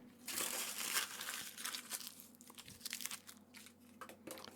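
Close, crisp crinkling and crunching of the foil wrapper from a Cadbury Easter egg, irregular rustles handled near the microphone with no talking.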